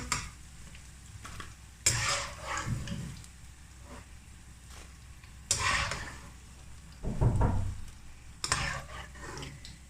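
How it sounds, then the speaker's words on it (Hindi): Okra (bhindi) frying in hot oil, with a steady sizzle broken by several loud stirring and scraping bursts of a spoon in the pan, close up and with no talking. "इसी तरह सारी भिंडी को हम फ्राई कर लेंगे"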